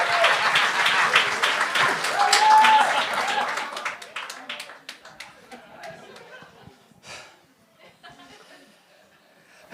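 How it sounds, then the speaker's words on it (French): Studio audience at a televised comedy talent show claps and laughs loudly at first, then the applause thins into scattered claps and chuckles before fading out. "Gardez vos applaudissements pour le prochain Gab Archambault!"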